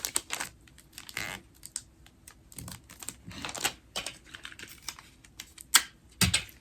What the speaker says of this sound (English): Tape.